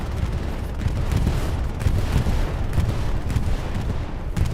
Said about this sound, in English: Bombing run coming through 171